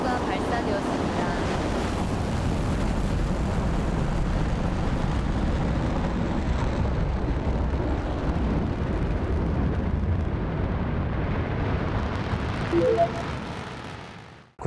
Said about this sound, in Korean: 누리호가 발사되었습니다.